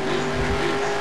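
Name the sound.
tire squeal of cars drifting in NASCAR Racing 2003 video game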